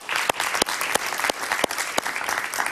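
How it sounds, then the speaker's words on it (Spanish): Audience applause during a Venezuelan-focused Spanish-language talk show, a steady burst of clapping with sharp individual claps standing out, fairly close and continuous throughout, with no voices over it. "Yo pido un aplauso para este señor."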